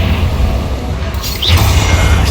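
A Bombarda spell explosion in Hogwarts Legacy during a fight with the dragon-form Ranrok: a heavy low boom and crashing rumble, followed by a brief whooshing rise and a second surge of blast noise, loud and close.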